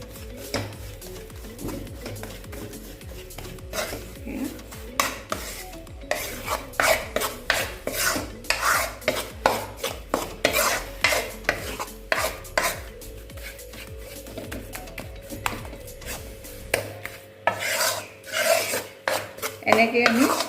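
A spoon stirs and scrapes besan and atta laddu mixture in ghee in a pan over low flame, rhythmic close scraping and clinking strokes repeating steadily throughout with no talk.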